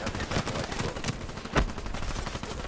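KN rifle gunfire in Call of Duty Black Ops III, a quiet string of rapid game shots with a sharper blast near the middle.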